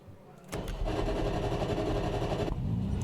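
A Nissan GT3 race car in a racing game accelerates out of the pits at full throttle, the engine jumping abruptly into a loud, steady, buzzing drone that holds for about two seconds, then eases off.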